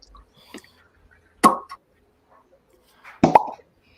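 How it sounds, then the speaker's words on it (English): A cork pops from a bottle of gueuze beer in two sharp, hollow plops about two seconds apart, each short and clear against an otherwise quiet room. "And Nina wants to see a cork pop tonight"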